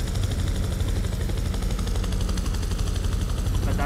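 A helicopter in a video game drones with a constant rapid rotor thump and engine roar, loud and unbroken throughout.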